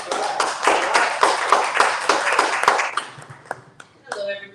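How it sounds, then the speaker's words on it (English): A small audience at a live book event in San Francisco applauds an author with distinct, rhythmic claps that dwindle after about three seconds into a few scattered claps, followed by a voice starting to speak. "A round of applause."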